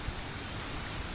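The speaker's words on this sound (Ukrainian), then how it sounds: "мете так, що як наче стоїш під лейкою від душа" Heavy rain pouring down outdoors in Ukraine near an apiary, a dense continuous hiss of falling water with low rumbling, faint and steady throughout, no voices.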